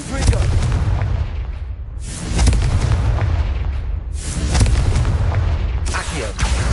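The Confringo spell fires in a Harry Potter video game, three loud booming explosions spaced about two seconds apart, each with a sharp onset and a rumbling decay.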